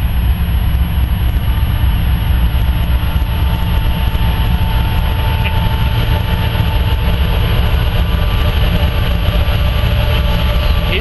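An eastbound Kansas City Southern grain train led by Dash 9 and GEVO diesel locomotives rolls past nearby, a loud steady rumble of engines and wagons that holds throughout.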